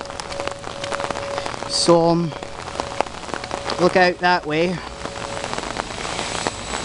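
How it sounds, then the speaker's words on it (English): Steady rain from the remnants of Tropical Storm Lee patters continuously on surfaces, with someone speaking briefly over the constant drizzle. "it's raining, it's dreary,"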